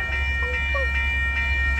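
Manifest freight train rolling past at night in Northern California, a steady low rumble of rail cars with faint squeals and tonal whines on top, heard close and continuous.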